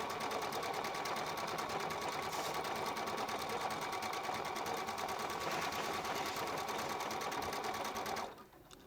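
Viking Epic 2 sewing machine stitching a mirror-image decorative stitch, a fast, steady mechanical whirr running close and continuous before stopping abruptly near the end.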